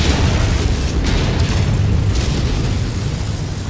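Missile explosions pound a mech in MechWarrior 5, a continuous loud, rumbling barrage of booms with heavy low-end roar sustained throughout, no clear gaps between blasts.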